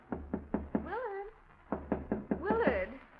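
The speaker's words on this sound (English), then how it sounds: "someone's knocking on your door" Knuckles rap on a door in two quick bursts of four knocks, close and distinct, while someone speaks between and over them in a radio drama.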